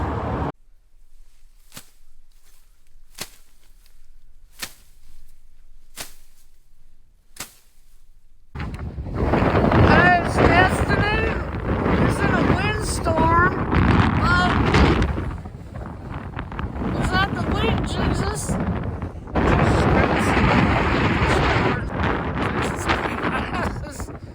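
Heavy wind buffeting the microphone during a high wind advisory in Colby, Kansas: a few sharp clicks in near silence, then loud, sustained roaring gusts with voices talking through them.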